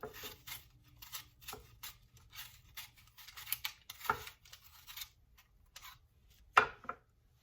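A large Gala apple is peeled by hand, giving soft, close scraping strokes in a quiet, uneven rhythm with a couple of sharper scrapes.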